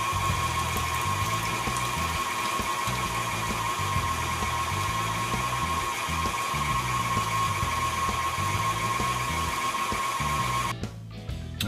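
A meat grinder grinding pork runs as a steady, loud mechanical whine with a constant tonal hum and churning rumble, stopping abruptly just before the end.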